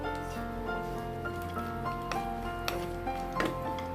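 Raisins and nuts sizzling in warm ghee for Bangladeshi laccha semai, a soft, steady crackle with faint spits and pops close by, no talking.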